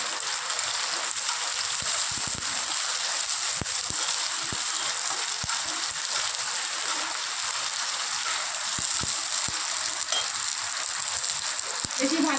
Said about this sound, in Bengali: এই কিশমিশটা একটু ভেজে নিচ্ছি।